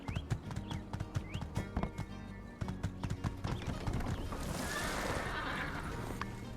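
Horse hooves clip-clop in the video game My Time at Sandrock, a steady rhythmic patter of close, moderately loud steps with a brief whinny, fading into a wash of ambient game noise toward the end.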